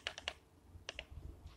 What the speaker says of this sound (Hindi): टेक्स्ट टाइप करूँगा